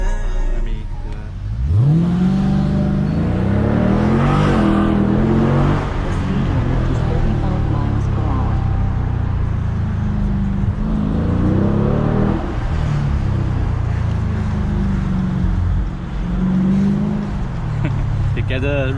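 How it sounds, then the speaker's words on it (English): Exhaust from a 2022 Dodge Challenger Scat Pack Widebody rises and falls in repeated revving surges, heard from inside the cabin, with people talking over the engine throughout. "You can hear that exhaust, additional sound from here."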